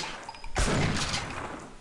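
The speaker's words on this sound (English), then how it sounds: "I'm somehow missing them with a fucking shotgun" Shotgun fire in the co-op shooter Sven Co-op: one loud, sharp blast that booms and rolls on into a dense, sustained roar of gunfire and echo, with no talking.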